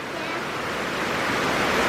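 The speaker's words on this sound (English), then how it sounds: "It is pouring though, y'all." Heavy rain pouring down outdoors on a foggy day, a loud, dense, continuous wash of broadband noise that holds steady and swells slightly, with no voices.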